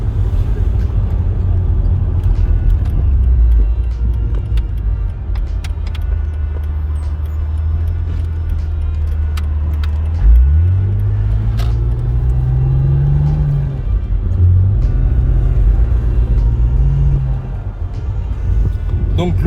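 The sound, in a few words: BMW 330Ci engine running, possible power steering pump noise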